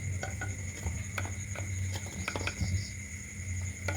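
Spoon stirring yogurt mixed with cumin and coriander powder in a bowl, a soft steady scraping and mixing texture with faint clinks against the bowl, close and quiet.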